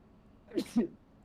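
A single close sneeze, a quick two-part burst of breathy noise, standing out briefly from a quiet room.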